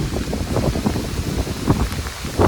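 Heavy rain falls outdoors as a loud, dense, constant roar, with a blustery, wind-like rumble buffeting close to the microphone.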